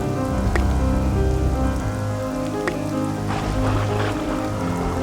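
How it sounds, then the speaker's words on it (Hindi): Heavy storm rain pours down steadily and loudly, a dense continuous wash of drops on surfaces with faint brief knocks now and then. "इतनी जोरों की बारिश हुई, ऐसा तूफान आया।"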